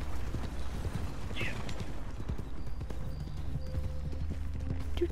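A mule's hooves clip-clop at a walking pace in the video game Red Dead Redemption 2, a run of soft, fairly close, irregular knocks over a busy background with faint tonal sounds.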